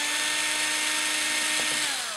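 A power screwdriver whines steadily and close as it backs screws out of a lithium battery case. It holds a continuous high tone with only a slight drop near the end.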